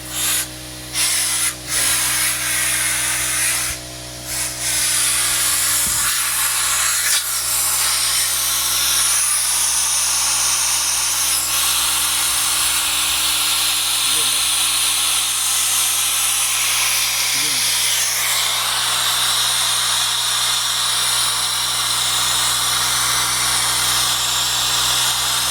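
Compressed air blasts through water pipes to clear them out, making a loud, continuous hissing rush that runs almost without a break, with a steady hum underneath and a voice talking over it.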